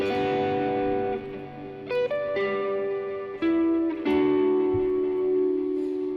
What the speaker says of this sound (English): Here's just the reverb from the mood.